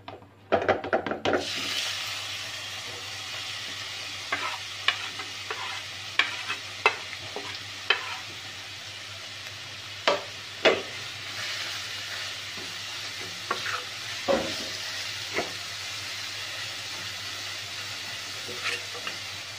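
Grated bottle gourd sautéing in melted ghee for halwa, a soft steady sizzle broken by repeated knocks and scrapes of a spoon stirring against the pan.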